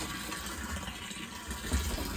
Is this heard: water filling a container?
yes